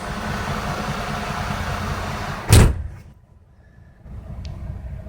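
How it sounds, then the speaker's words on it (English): A Cat CT660 dump truck cab door slams shut with a single loud thud over a running engine idle, which quiets briefly before resuming in the background. "door open and close."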